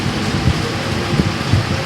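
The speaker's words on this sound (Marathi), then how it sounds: "मोठी सर आली. पाऊस तर पाहिजेच, पावसाची गरज आहे." A heavy rain shower pours down in a village, a steady, dense hiss of falling water with no break across the short stretch.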